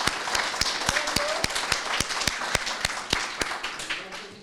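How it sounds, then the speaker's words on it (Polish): An audience applauds award winners at a school prize ceremony, with crisp nearby claps standing out over a steady bed of wider clapping and some voices underneath. "Duże brawa jeszcze raz dla nagrodzonych."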